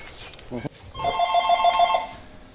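An old-style telephone rings in a steady trilling burst for about a second, close and fairly loud, then stops as someone picks up; a brief voice is heard before the ring begins.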